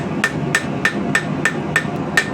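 A light rounding hammer strikes a steel knife blade in a steady, evenly spaced series of about eight sharp, ringing metallic blows, close and loud with no talking.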